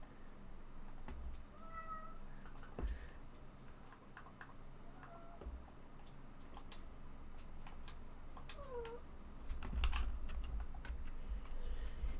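A cat meows near a laptop, several short meows over a continuous clatter of computer keyboard typing and clicks, fairly quiet and close.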